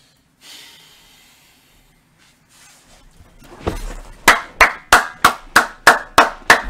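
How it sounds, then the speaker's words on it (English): A person's hands clap about nine times right beside the microphone in a loud, steady, evenly spaced run, following a few seconds of soft breathing and faint rustling. "my clap's kinda loud"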